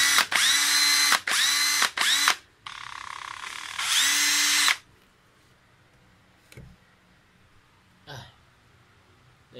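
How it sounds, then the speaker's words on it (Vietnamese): A nearly new Hitachi cordless drill with a 13 mm chuck whirs in several loud, close bursts: short triggered spins, then a longer sustained run, followed by quiet handling clicks. "Đây là cái khoan Hitachi khoan này còn rất là mới nha"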